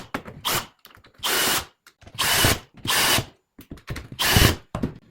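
Power screwdriver driving screws into an electrical control panel, five or six loud whirring bursts of about half a second to a second each, separated by short pauses and faint handling clicks.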